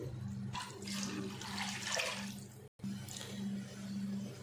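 Water pours steadily into a pot for cooking rice in a kitchen, a continuous rushing splash heard close, with a brief cut in the middle before the pour resumes.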